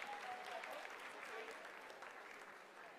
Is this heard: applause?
yes